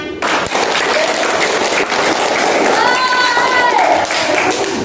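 Classroom applause during a primary school mathematics lesson on bar charts: a room of children clapping steadily for several seconds, close and loud, with voices and a cheer rising over the clapping.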